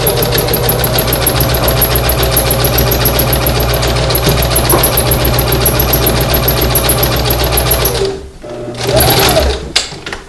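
A sewing machine runs in a fast, steady stitching burr while sewing a drawstring bag seam across pins, loud and close, then stops briefly before a short final burst.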